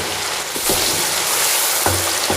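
Masala of tomato and green chilies frying in a pan for a Pakistani mashed potato curry, a steady broadband sizzle with a few soft stirring scrapes and knocks, close and alone.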